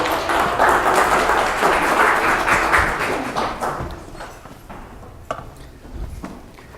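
An audience applauds speaker Brian at a noon talk at the Crescent Hotel, a steady wash of clapping from a crowd that swells, then thins into scattered claps.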